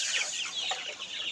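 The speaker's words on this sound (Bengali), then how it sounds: "আপনারা যারা মুরগি বাচ্চা নিতে চাচ্ছেন, টাইগার মুরগির বাচ্চা, অরিজিনাল টাইগার" Young tiger chicken chicks on a farm peep and cluck busily while being fed, a dense chorus of high, close chirping with no talk.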